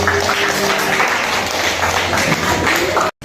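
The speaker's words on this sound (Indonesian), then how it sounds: "tepuk tangan untuk Sejati." Students in a classroom clap together in a brief, dense burst of applause that cuts off abruptly.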